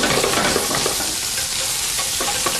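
Langoustines frying with shallots in a hot pan, a steady loud sizzle with bursts of crackle and stirring throughout.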